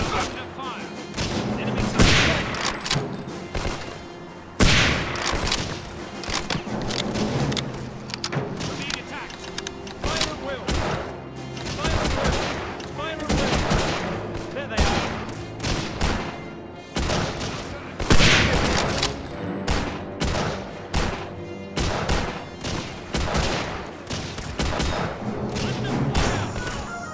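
Gunfire from the video game Hidden & Dangerous 2, a dense stream of shots and booms through the whole stretch, loud and continuous, mixed with game music and a radio-style voice calling out enemy contacts.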